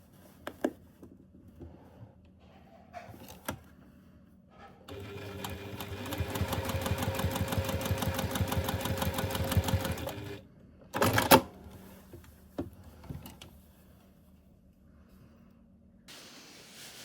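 Sewing machine stitching a fabric Kindle pouch shut, a steady rapid whirring run of stitches lasting about five seconds, preceded and followed by quiet handling clicks and a brief second burst of stitching.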